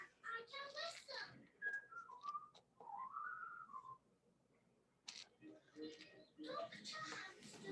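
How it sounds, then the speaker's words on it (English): A cartoon character whistles a short melodic tune in clear rising and falling notes, framed by brief bursts of talk before and after. "Peppa has learned how to whistle."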